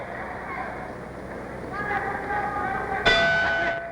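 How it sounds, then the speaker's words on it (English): A boxing bell ends round four of the Emile Griffith vs. Benny Kid Paret welterweight championship fight, one bright ring that decays over a steady crowd murmur. "And there's the bell ending round 4."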